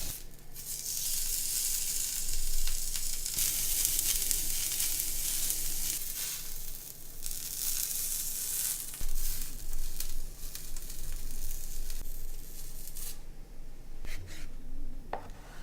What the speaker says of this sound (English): Really hot griddle to sear this on the outside.